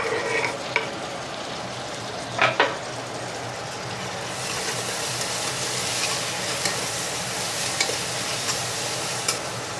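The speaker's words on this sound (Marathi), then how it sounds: "टमाटे सुद्धा तेलामध्ये 2 मिनिटं परतून घेऊया" Chopped tomatoes frying in hot oil for a chicken biryani, a steady close sizzle that swells louder midway, with occasional scrapes and clinks of stirring and no talk.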